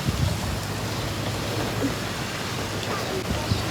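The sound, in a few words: rain falling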